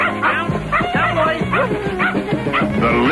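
Several dogs barking and yipping in a 1988 dog food commercial, quick overlapping barks with whimpers, close and lively, under music or announcer-style sound.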